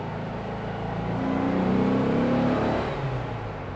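A restored Porsche 356 engine rises in a steady rev as the accelerator is pressed, swelling to a smooth peak near the microphone and easing back down, with no speech.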